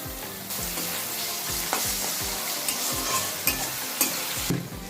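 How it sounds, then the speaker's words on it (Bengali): Ginger-garlic paste frying in a pan for chilli chicken, a loud steady sizzle close up with a regular rhythm of stirring scrapes about twice a second, no voices. "আমার ভাজাটা হয়ে এসছে এতে আমি হাফ চা চামচ আদা রসুন বাটা দিয়ে দিলাম"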